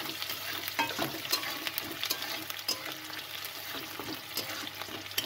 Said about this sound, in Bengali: একটু বাদামি করে ভেজে নিচ্ছি।